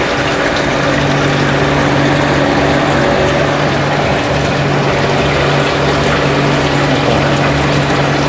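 Power flushing machine pumping inhibitor through a heating system's radiator circuit, a loud, continuous mechanical hum with steady droning tones and a churning liquid wash, no speech.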